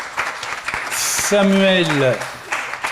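An audience applauds at an award ceremony for a research project, with the clapping running steadily beneath a man's speech and a brief whistle-like tone.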